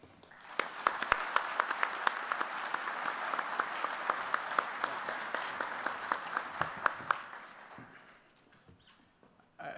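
Audience at a police academy graduation ceremony applauding to welcome the Commandant, a steady sustained round of clapping from a sizable crowd that fades out near the end.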